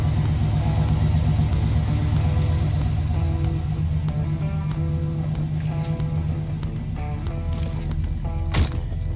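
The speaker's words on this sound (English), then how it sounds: "There is some kind of big exhaust leak up here towards the front of the car." A Chevrolet Caprice engine with a big exhaust leak near the front idles with a steady low rumble and a raspy, ticking exhaust note, close by, with a brief sharp knock near the end.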